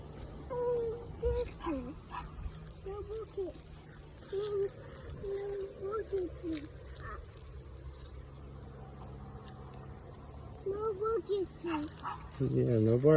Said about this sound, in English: Yeah, no barking, Peanut.